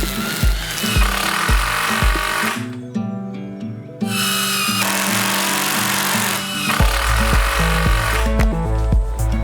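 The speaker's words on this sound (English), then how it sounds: "So I'm going to go around with the chainsaw." A chainsaw cuts around an oak tree, loud and close, its engine surging and dropping as it bites into the wood, easing back to a lower idle midway before revving hard into the cut again.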